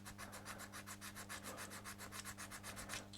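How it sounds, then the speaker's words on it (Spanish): A very fine file scrapes excess cyanoacrylate glue off a Scaleauto Honda NSX GT3 model car, a quiet, fast, regular rasping of short strokes repeating evenly throughout, close up over a low steady hum. "Para limpiar el poco exceso de cianoquilato que se ha formado aquí encima, con una lima muy finita,"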